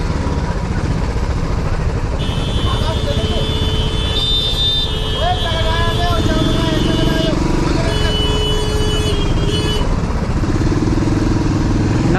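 An XPulse motorcycle rides through the clear bike lane past trucks at a highway toll. A loud, steady engine and wind roar runs throughout with traffic noise and faint horns around it.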